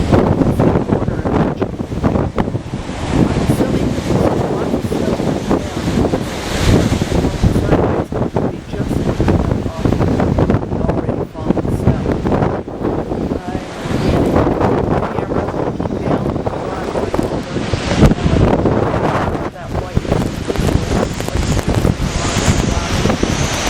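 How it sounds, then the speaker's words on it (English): Strong blizzard wind blows hard outdoors on a porch, roaring and buffeting the microphone in a loud, unbroken rush with gusty surges throughout. "the wind is blowing so hard that there are places where you can actually see the grass"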